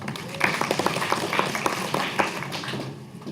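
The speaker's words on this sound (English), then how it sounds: "applause" A short burst of applause from a small group, loose overlapping claps at moderate volume over a faint room murmur.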